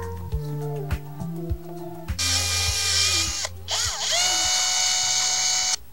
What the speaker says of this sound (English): I'm going to be just stepping up using different size drill bits every time.